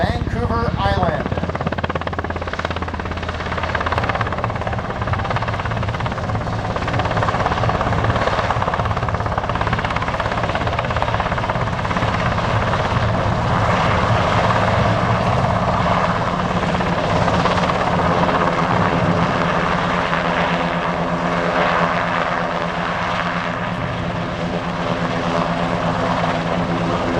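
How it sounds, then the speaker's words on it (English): A Royal Canadian Air Force CH-148 Cyclone helicopter hovers at an air show, its loud, steady rotor thump and turbine roar continuous and close throughout, with an announcer talking over it. "you can see our CH-148 Cyclone is in a hover right here at Show Center"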